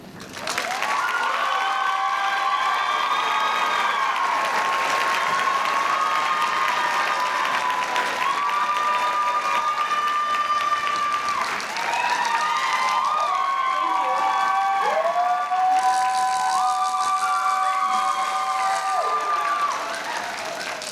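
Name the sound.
commencement audience applause for Mrs. Hernandez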